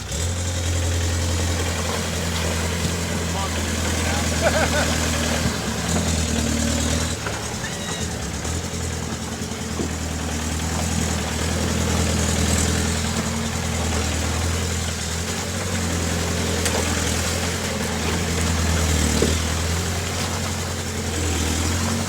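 A VW TDI diesel engine in a Jeep TJ idles with a deep, steady, tractor-like rumble and vibration, loud and close, while voices talk intermittently over it.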